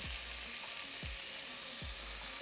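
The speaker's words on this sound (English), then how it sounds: "we are gonna go ahead and get them into the skillet, and it is hot" Pork carnitas pieces sizzle steadily in a hot skillet, a dense, even hiss throughout with a few low knocks and thumps as the meat shifts.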